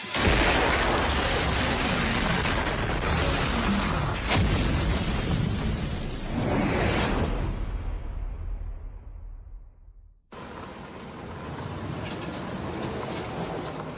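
Explosions blasting mountains, loud rolling booms and rumbling roar with several swelling surges that fade to near silence before a steady rumble resumes.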